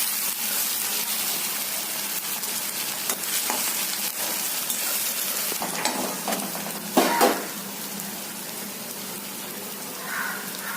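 Green chillies frying in hot oil in a pan give a steady, moderately loud sizzle lasting throughout, with a few brief stirring scrapes and clatters of a utensil against the pan.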